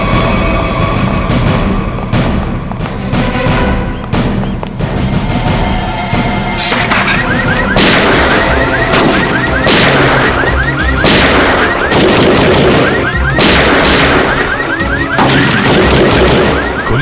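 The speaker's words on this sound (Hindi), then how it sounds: "ये गोली कहां से चल रही?" Loud, close gunshots ring out in irregular bursts of sharp bangs, and a warbling alarm joins in partway through.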